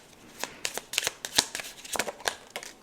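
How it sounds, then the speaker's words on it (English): Tarot cards being shuffled by hand, a quick run of crisp riffling flicks and slaps, close and clear with no talking. "Let me shuffle again."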